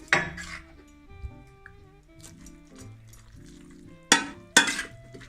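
Pasta is stirred into tuna sauce in a pan for pasta al tonno: soft scraping and sizzling, then two sharp metallic clinks of utensil on pan near the end.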